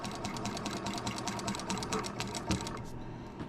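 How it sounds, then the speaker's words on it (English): A sewing machine runs in a quick, steady mechanical chatter while stitching a foundation paper piecing seam, heard close and fairly quiet before slowing and stopping near the end. "we're going to go right underneath our presser foot here and stitch directly on this line"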